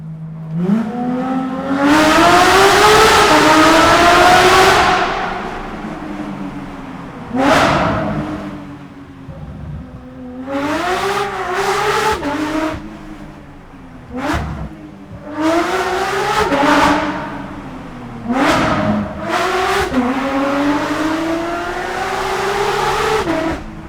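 A straight-piped Porsche 992 GT3 RS revs hard and loud through a string of road tunnels, its engine rising and falling in repeated surges with sharp downshift blips and echoing bursts, no one talking.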